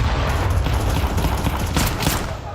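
Rapid pistol gunfire from a Counter-Strike 2 match at a playoff tournament, a dense crackle of overlapping shots running steadily through the moment, loud and close with no voices.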